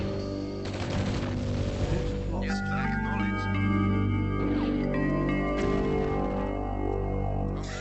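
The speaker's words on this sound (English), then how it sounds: "Turns out they're shooting at the camo pillbox" Soviet VTU units firing on a camouflaged pillbox in the Red Alert strategy game, a steady run of gunfire and small explosions under a sustained musical soundtrack, moderately loud and continuous.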